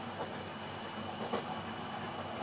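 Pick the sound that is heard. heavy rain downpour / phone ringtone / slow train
slow train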